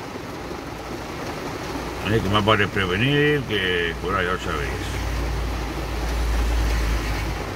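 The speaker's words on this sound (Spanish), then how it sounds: "Esto es lluvia" Heavy rain pours steadily on a stopped car, heard from inside as a dense, constant hiss and drumming while someone talks over it in Spanish.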